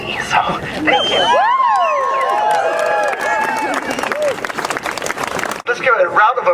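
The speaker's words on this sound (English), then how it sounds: "Let's give a round of applause for SGS." An audience at a Condoleezza Rice protest at the University of Minnesota breaks into loud, sustained applause, with cheering, whoops and whistles rising over the clapping.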